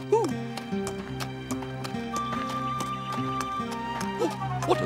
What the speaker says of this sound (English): An injured wombat riding a horse.